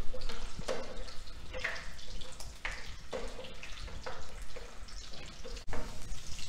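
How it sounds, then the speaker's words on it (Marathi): Steamed, scored small potatoes frying in hot oil in a pan, a continuous close bubbling hiss broken by repeated bursts of spattering as the pieces are moved or stirred. "जे आपण वाफवून घेतलेले आणि छोटे छोटे छेद केलेले आलू आहेत ते ह्यामध्ये तळून घ्यायचे आहेत"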